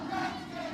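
Loud football stadium crowd roaring and cheering continuously at a 2A state championship game between St. Johns and Scottsdale Christian, a dense sustained wall of voices.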